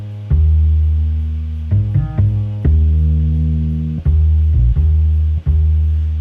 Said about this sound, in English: Like the bass is just an acoustic bass.